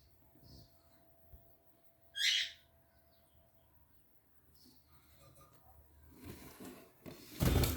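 Scattered squawks and chirps from paradise parrots, one sharp call standing out, then a burst of harsher calls near the end over faint background noise.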